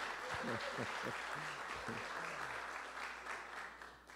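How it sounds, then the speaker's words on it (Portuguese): Church congregation applauds a newlywed couple just back from their honeymoon; sustained clapping fills the room while a voice speaks over it, the applause thinning slightly toward the end. "Vamos aplaudir o casal que chegou de lua de mel"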